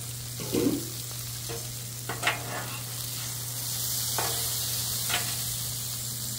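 Mini meatloaves and potatoes sizzling on a Blackstone griddle, a steady close hiss of frying with a low hum beneath and occasional scraping and tapping of a utensil.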